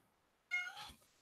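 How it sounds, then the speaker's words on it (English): A house cat gives a single short meow nearby, clear and fairly quiet against a silent indoor room. "Oh, I've got a kitty joining me."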